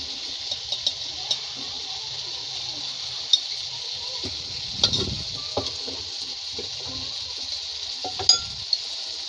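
Spices and dry fish gravy are stirred in a pan, with light scraping and clinks of a spoon against the metal over a steady soft sizzle, close and fairly quiet.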